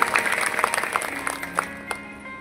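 A crowd at a bhajan gathering claps for dada in a burst of scattered, lively applause. Sustained musical tones run beneath the clapping.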